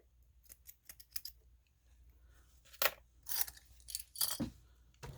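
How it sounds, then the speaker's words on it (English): Small scissors snip sewing threads close up, a few faint clicks followed by several louder, crisp cuts in quick succession, alone with no talk. "Trim our threads."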